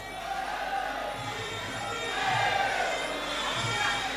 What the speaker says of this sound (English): the crowd is going bananas